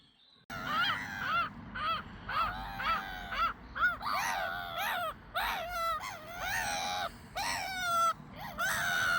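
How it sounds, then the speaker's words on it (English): Trumpeter swans giving a long series of loud, nasal honks and calls, some overlapping, from a flock nearby with a low background rumble and no talking. "We like the trumpeter swans"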